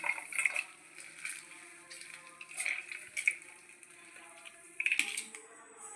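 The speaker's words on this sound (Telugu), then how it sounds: "ఇంకొంచెం వాటర్ వేసుకొని" Water poured onto ground coconut paste in a mixer jar for another grind, making a close, gentle splashing and trickling sound with a few louder pours, with no talk.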